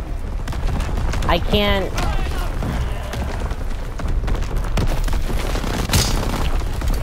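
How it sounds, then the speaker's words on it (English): Artillery and mortar explosions in Call of Duty WWII, several dull booms and bursts thudding through a noisy battlefield mix, with a shouted voice and a chirping tone partway through. "Enemy mortar fire incoming."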